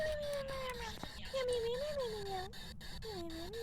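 A cat meows in the background over voice chat during a Phasmophobia game, a few drawn-out, wavering cries rising and falling across the clip, partly masked by steady background noise.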